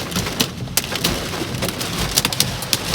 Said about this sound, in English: I don't know if it's hail or just rain that's blowing really hard.